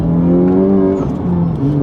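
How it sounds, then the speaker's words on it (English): A Honda Type R engine on a Hondata base tune revs loudly up and drops as the gear changes, a quick blip of throttle matching the downshift, close and alone. "it feels so much nicer that the rev match actually functions properly now"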